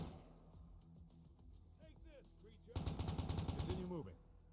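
Gunfire from the video game Future War Tactics crackles in a rapid automatic burst over low background game noise, with a voice talking throughout.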